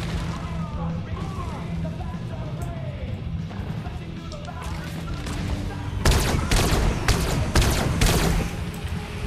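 Bursts of rapid gunfire in a Fortnite match, with a steady rumble of game action under it and a louder, denser volley of cracking shots toward the end, while players talk over the noise.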